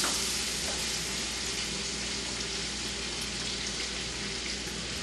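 Finely diced large onion drops into half a cup of melted butter in a pan, giving a steady, even hiss and sizzle that holds at a moderate level with no voices over it.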